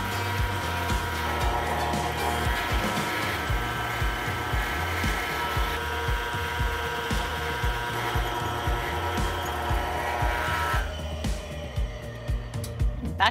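Electric drill boring a hole through metal stock for a hand-forged nail in a blacksmith's workshop, a steady close motor whine running for about eleven seconds with faint knocks underneath, then cutting out.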